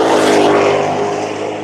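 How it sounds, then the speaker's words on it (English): A supercharged race car passing close by on a circuit, a loud, dense engine roar with a whining tone that slowly fades as it moves away. "Supercharger whining"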